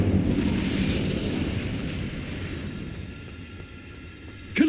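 Spell explosions from Confringo and Bombarda in Hogwarts Legacy give a rumbling blast that fades slowly, with a sharp burst near the end.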